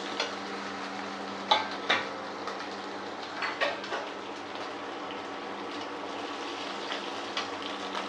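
Green chillies sizzle in a hot pan with a steady frying hiss, while a spoon gives a few sharp scrapes and taps while stirring.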